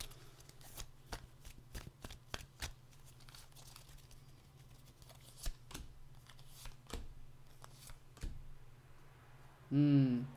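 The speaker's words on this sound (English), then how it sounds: "I'm going to shuffle these up a little because I kind of feel like I need to" Tarot cards are shuffled in repeated quick riffles, crisp snapping bursts spaced through the clip over a low steady hum, with a short voice at the end.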